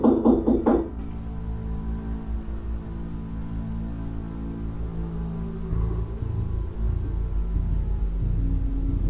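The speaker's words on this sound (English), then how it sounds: "hears knocking from the glass back door" Knocking on a glass back door at night: a quick cluster of sharp raps right at the start, then a low, tense rumbling drone fills the rest.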